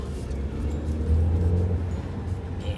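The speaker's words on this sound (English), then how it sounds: "I also love the acceleration, but on sport mode, it just jumps." A 2025 Jetour Dashing car in sport mode accelerates, its engine giving a steady, close low rumble that swells briefly in the middle, heard from inside the cabin without talk.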